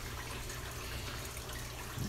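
Tap water rushes steadily through a GFO reactor on a saltwater aquarium setup, a continuous close watery hiss and gurgle with no voices.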